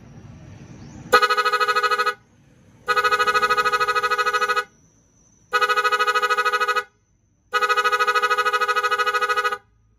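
A dual car horn blares in four long, loud blasts of about two seconds each, separated by short silences, close by.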